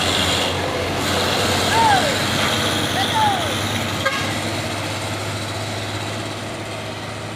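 An overloaded truck labours uphill with a low, steady engine drone, joined by two short horn toots early on, fairly close and continuous throughout.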